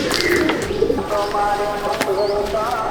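Competition racing pigeons in a loft near Nepalgunj coo softly and repeatedly close by, their low, throaty calls overlapping with faint chirps in the background.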